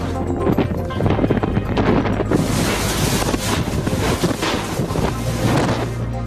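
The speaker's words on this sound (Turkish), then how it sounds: "rüzgar yeniden şiddetlendi" Strong lodos wind in Turkey buffets the microphone in rough, roaring gusts, rising sharply partway through and staying loud and turbulent with low rumbling bursts.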